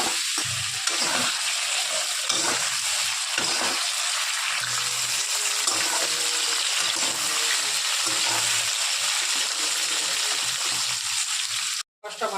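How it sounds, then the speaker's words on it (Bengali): Fish seasoned with salt and turmeric frying in hot oil, a steady broadband sizzle that runs throughout with occasional stirring clatter; speech is faint or absent. "একটু নুন, একটু হলুদ দিয়ে একটু লাল লাল করে ভেজে নেব।"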